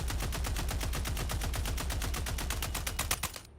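A rapid burst of heavy automatic gunfire from a hard-recoiling weapon in a Halo-themed shooter video game, many evenly spaced loud shots cracking in a continuous stream before cutting off abruptly.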